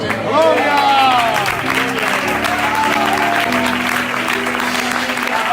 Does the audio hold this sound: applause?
yes